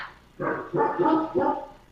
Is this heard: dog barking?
yes